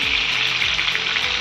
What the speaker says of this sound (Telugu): చేపలు బాగా ఫ్రై అయ్యే వరకు కొంచెం కాసేపు అలా మూత పెట్టుకుందాం.